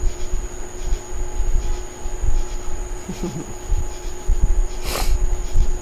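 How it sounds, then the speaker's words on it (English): A train rumbles past with a steady rolling roar, a brief wheel squeal and a sharp hiss near the end, loud and close with no talk over it. "hopefully we will get some more trains before the evening's over, Killswitch."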